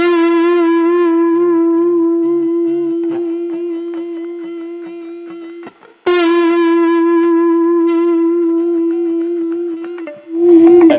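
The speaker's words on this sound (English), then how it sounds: "this is the sound of pure horizontal vibrato" A sustained electric-sounding guitar note, shaped purely by horizontal string vibrato, rings steady and loud, briefly cuts off and is re-struck about halfway through, then ends in a short burst of scratchy noise.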